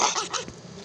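A dog gives a brief whimper, a couple of short, whiny yelps close by.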